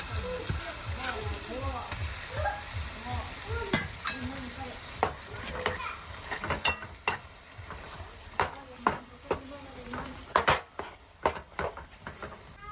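Boiled potatoes for samosa filling are mashed and stirred in a pan, giving repeated scraping, squelching strokes in an even rhythm that break into sharper, louder clacks of the spoon against the pan, with a voice speaking in between.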